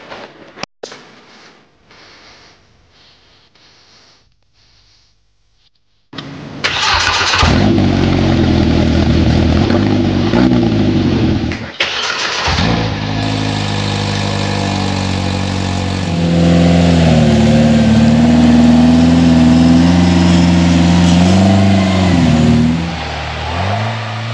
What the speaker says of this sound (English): fire this thing up, see what it sounds like